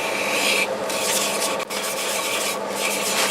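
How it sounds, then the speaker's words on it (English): Wet sanding of a wood turning on a lathe, abrasive rubbing through a slurry, a loud, close, continuous raspy scrubbing with brief pauses and shifts in stroke. "And this will make a slurry as I sand."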